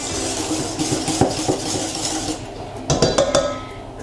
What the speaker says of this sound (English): I'm going to quickly mix these together